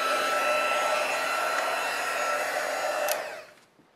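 A heat embossing tool whirs steadily as it melts clear embossing powder on a stamped card, a loud, even fan-like hum that runs close and alone for about three seconds, then switches off and winds down.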